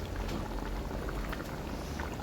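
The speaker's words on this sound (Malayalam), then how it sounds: "ഇനി തിളച്ച് വറ്റി കുറുകി വരണം" A pan of pickle mixture bubbling and simmering steadily as it boils down and thickens, a continuous fizzy boil close by with no voices.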